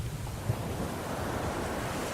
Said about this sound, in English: Just then, a big wave hits the ship.